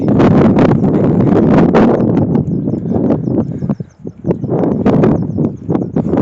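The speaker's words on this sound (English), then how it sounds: "Quite windy here." Strong coastal wind at Maryport buffets the microphone in heavy, continuous low rumbling gusts, easing briefly in a short lull before roaring back.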